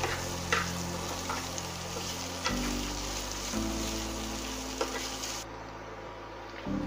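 Garlic and ginger frying in a pan, a soft continuous sizzle with a few faint spoon taps as the mixture is stirred, steady and close with no talking.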